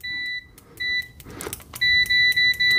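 A TESMEN TMM-569A budget multimeter in continuity mode with its stock test probes gives a loud, clear electronic beep, sounding in several separate bursts of varying length and then in quick repeated pulses.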